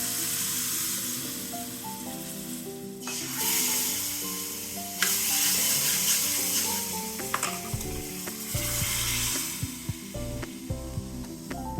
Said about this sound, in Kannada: ಸಾಸಿವೆ ಜೀರಿಗೆ ಇಂಗು ಅರಶಿನ ಮತ್ತು ಕರಿಬೇವು ಒಂದು ಸ್ಪೂನ್ ತುಪ್ಪಕ್ಕೆ ಇಷ್ಟು ಒಗ್ಗರಣೆ ಹಾಕಿದ್ದೀನಿ